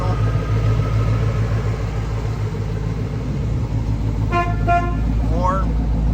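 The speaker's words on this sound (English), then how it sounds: "Horn" A 1971 Chevelle SS 4-speed with a 350 V8 gives a short series of horn honks, tooting twice and then once more, heard over a steady, loud idling engine rumble.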